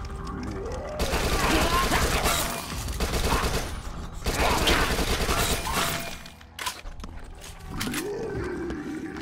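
Rapid SMG fire in the zombie shooter Dead Nation comes in loud, dense bursts that stop and start over several seconds, with growling creature noises and a low rumble underneath.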